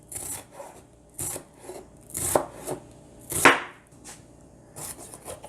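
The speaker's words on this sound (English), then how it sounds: "I'm gonna slice my onion," A knife finely slices an onion on a cutting board in a home kitchen: about eight crisp, separate strokes at an uneven pace, a few landing sharper and louder, with quiet pauses between.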